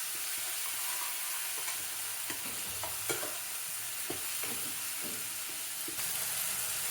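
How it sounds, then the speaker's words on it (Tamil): Tomatoes and onions sauté for a mutton curry, a soft, steady frying sizzle broken by intermittent spatula scrapes and light taps against the pan, fairly quiet and without voices. "எல்லாத்தையும் நல்லா வதக்கணும்"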